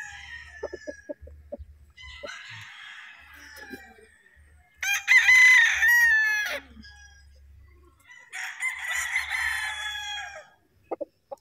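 A Red Kelso gamefowl rooster at a gamefarm crows loudly and close several times, with quieter clucking and other poultry calls in between and no speech.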